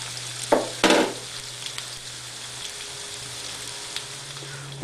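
Onions frying in a pan for beef caldereta, a soft continuous sizzle near at hand with a couple of sharp stirring clatters at the start.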